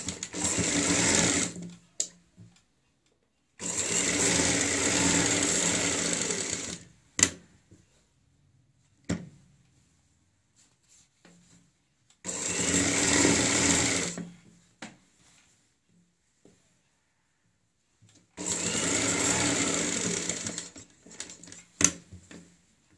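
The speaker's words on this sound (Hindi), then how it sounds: "सिलाई हम ऊपर से ही लगा देते हैं, एक पैर चौड़ाई वाली सिलाई लगाएंगे।" A sewing machine runs four separate bursts while stitching patchwork onto a kurti neckline, each a loud, close, steady whir of a few seconds, with quiet handling and a few clicks in the pauses.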